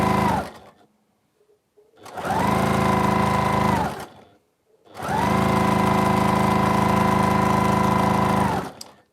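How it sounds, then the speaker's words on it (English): A sewing machine stitches fat-quarter quilt pieces together in two close, loud runs: a steady whirring burst of about two seconds, a short pause, then a longer run of about four seconds, with no talking. "I'm going to sew the other one together just in case."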